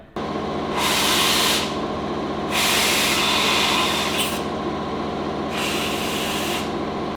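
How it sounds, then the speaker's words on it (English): Three loud bursts of compressed air hiss and roar through the oil galleries of an LS1 engine block, each lasting a second or two, over a steady low mechanical hum. "We need to just blow through all the oil galleries now"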